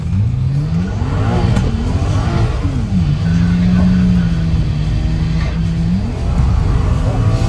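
A loud 600-horsepower BMW engine revs repeatedly, holding a high rev for a couple of seconds before dropping back, with a rough rumbling idle between.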